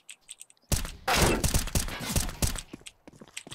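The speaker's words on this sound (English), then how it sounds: "Grenade out." A grenade explodes in a video game: a sudden loud blast that swells into a heavy, crackling rumble with scattered thuds, then fades into quieter bumps.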